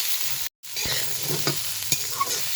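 Masoor dal stir-fried in a pan gives a steady crackling sizzle with scraping stirs and soft taps of the spatula, close and continuous, broken once by a brief moment of silence.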